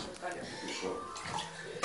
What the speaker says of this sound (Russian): Так воды надо налить.